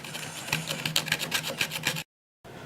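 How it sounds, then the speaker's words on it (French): A hand saw cutting through resin model parts, giving a quick run of rhythmic rasping strokes, close and fairly quiet, that stops abruptly before a short pause. "on a pu enlever la grosse partie de résine à la scie"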